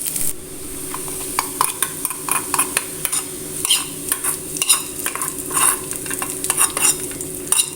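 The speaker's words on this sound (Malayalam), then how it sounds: "ചെറിയ ഉള്ളി ഇട്ടിട്ട് നമുക്കൊന്ന് വറുത്തിടാം" Small onions (shallots) sizzle in hot oil as a tempering for a raw banana curry, with a constant fry hiss and repeated scraping clinks of a spoon stirring the pan.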